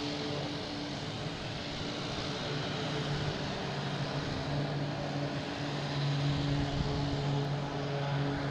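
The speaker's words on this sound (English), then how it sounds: "But we have American Airlines coming in. E175 coming in from Columbus." An American Airlines Embraer E175 arriving at Boston Logan from Columbus gives a faint, distant, steady jet hum with a droning engine tone underneath and no talking.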